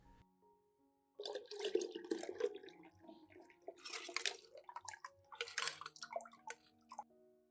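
Eggshell soak liquid is poured into a banana peel solution, a close, quiet trickle and splash of liquid in uneven bursts with a few drips, following a short near-silent start.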